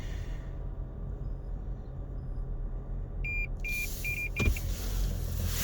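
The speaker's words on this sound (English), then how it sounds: "That's my car warning me." Inside a car pulling out of a McDonald's car park, a series of short electronic warning beeps sounds over a steady low engine rumble, followed by a brief thud.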